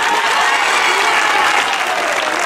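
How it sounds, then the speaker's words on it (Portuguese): A live event audience breaks into loud, sustained applause, a dense wash of clapping that holds steady throughout with no break. "Palmas para vocês."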